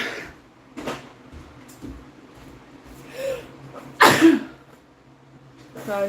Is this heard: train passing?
no